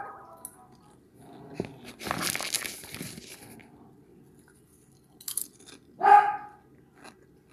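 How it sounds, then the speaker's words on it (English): Several dogs barking in short, scattered bursts over a quiet background, with a louder sharp bark near the end and some crunching, crinkling noise mixed in; moderately close. "Those crazy dogs, you know."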